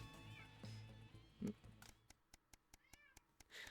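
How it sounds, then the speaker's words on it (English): A cat meows in the video game Not For Broadcast, with a few short cries near the start and another at the end, separated by a quick series of regular clicking ticks. "I hear the cat."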